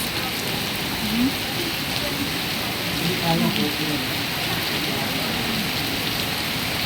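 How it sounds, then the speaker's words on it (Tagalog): Heavy rain pours down at a park, a steady dense hiss that holds throughout with no letup, close and fairly loud; faint voices are heard briefly beneath it. "Ang lakas ng ulan."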